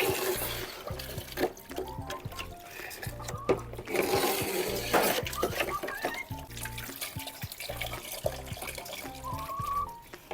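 Water washing out a poultry cage splashes and runs in uneven bursts, with trickling and gushing close by and occasional clatter.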